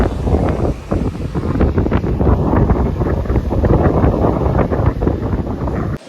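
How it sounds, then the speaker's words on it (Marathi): Strong wind blasts straight into the microphone at a beach, a loud, continuous rumbling buffet that cuts off abruptly at the end. "माझा आवाज येत नसेल वारा जाम आहे"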